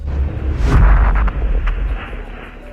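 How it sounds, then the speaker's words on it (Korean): Space Shuttle Challenger lifting off on a launch: a loud, sustained low rumbling roar that swells in the first second and then holds steady and heavy. "25번째 우주 왕복선 임무의 발사 그리고 타워를 벗어났습니다."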